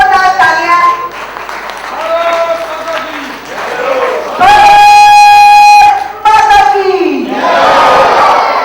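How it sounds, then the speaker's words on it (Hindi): Loud applause and cheering from a crowd at a ceremony honoring a team, with a long sustained tone cutting in partway through and a voice calling over the noise. "जोरदार तालियां।"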